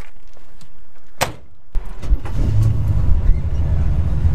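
A 1974 Chevy Nova's door shuts with a sharp thud, then the engine fires up and settles into a loud, rumbling idle close by.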